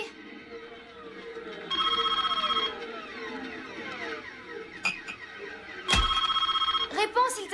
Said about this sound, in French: Décroche, Bobby!